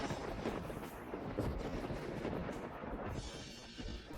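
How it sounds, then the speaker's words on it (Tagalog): Thunder sound effect for a lightning strike in a dramatic scene: a loud, continuous rumbling roar with crackling bursts that swells and holds for several seconds, with no talk over it. "Kidlat,"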